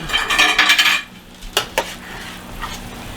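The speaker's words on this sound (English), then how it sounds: "So now, let me get my bowl. And let me get my spoon." A bowl and spoon are picked up in a home kitchen, a burst of ceramic and metal clatter followed by two sharp clinks, close and clear against a quiet background.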